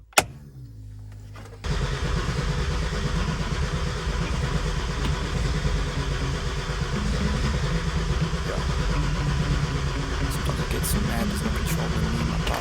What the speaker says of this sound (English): let's see if it'll start up